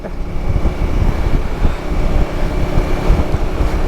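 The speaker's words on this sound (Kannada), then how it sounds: "ಗಾಳಿ ಮಾತ್ರ ಒಂಚೂರು ತಣ್ಣಗೆ ಹೊಡಿತೈತಿ ಇವಾಗ" Strong, cold wind in Ladakh on the Srinagar to Drass route roars and buffets steadily against the microphone, a dense, gusty rush with no voices.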